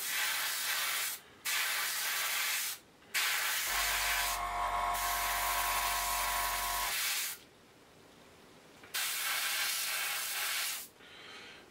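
An airbrush sprays paint onto model drop tanks in a steady close hiss broken by brief pauses, with a low buzzing pulse from the compressor or valve during the middle stretch and no talking.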